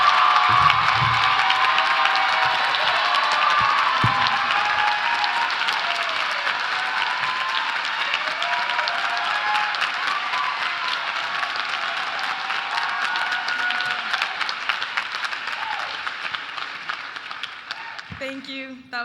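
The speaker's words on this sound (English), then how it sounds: "Make some noise for Anna Shaddae Rodriguez!" At the 2014 Hampshire College commencement, a large audience applauds and cheers loudly and continuously, with whoops and shouts rising from the crowd, then fades near the end.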